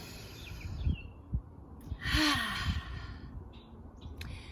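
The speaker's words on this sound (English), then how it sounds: "Take a deep breath." A person outdoors on a beautiful day takes a slow, deep breath in and lets out a long audible sigh, close and alone, with faint bird chirps in the background.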